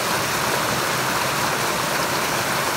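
Water pours steadily over the collection point of a Tasmanian micro hydro setup, a dense, even rushing like a stream or small waterfall that stays loud and close throughout with no talking.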